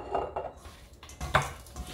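A utensil scraping and clinking against a dish while garlic powder and olive oil are mixed into vegetables, a few short quiet knocks and scrapes.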